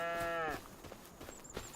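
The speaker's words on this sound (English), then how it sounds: "with a couple of cows in there" Cow mooing in a paddock in Farming Simulator 25, one loud close low moo at the start, then quiet ambient farm noise with faint chirps.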